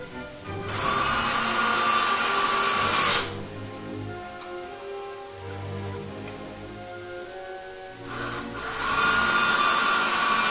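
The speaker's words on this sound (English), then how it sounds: "I'm going to take and run some screws up into this electrical box so it's screwed into that 2x4" A power drill drives screws up into an electrical box fastened to an overhead 2x4 during a ceiling fan install, with two loud bursts of whirring separated by a quieter pause, close by and with no talk.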